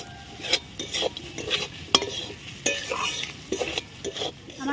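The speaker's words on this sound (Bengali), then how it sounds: "এটা দিয়ে আমি ভালোভাবে কষিয়ে নিব" Pointed gourd dorma sautéed in a pan, its steady close sizzle broken by frequent spatula scrapes and stirring strokes at an uneven rhythm.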